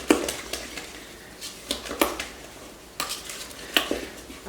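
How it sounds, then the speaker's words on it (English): A spoon stirs waffle batter in a bowl, giving soft wet swishes and light clinks against the side at an irregular rhythm, close and fairly quiet with no talking. "So I'm going to use a spoon to stir this, even though normally I would use a whisk."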